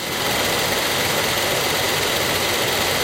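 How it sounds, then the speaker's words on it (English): A Toyota's engine idles close by in a steady, continuous rumble, broadband and even throughout, with no voices over it. "I'll leave the engine running"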